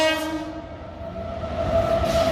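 A train passing nearby, a steady sustained horn tone running over a low rumbling rail noise for a couple of seconds, with the rumble growing toward the end.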